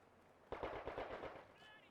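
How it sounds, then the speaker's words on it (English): Rapid burst of MG42 machine gun fire mixed with rifle shots in a World War II style competitive video game match, a loud clattering volley starting abruptly and running steadily for over a second. "And Whydude with the sniper and the MG42."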